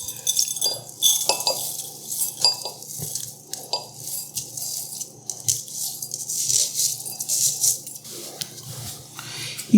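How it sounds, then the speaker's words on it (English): Dry rice grains pour and rattle into a ceramic rice cooker bowl, a continuous gritty hiss with small clinks against the bowl, close up with no talking. "here's our ceramic bowl from the rice cooker. We're going to go ahead and put the rice in here."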